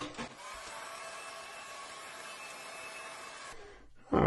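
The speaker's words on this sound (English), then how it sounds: "we'll hit it with a dryer." A hair dryer blows with a steady whooshing hum for a few seconds over a watercolor painting on paper, then shuts off.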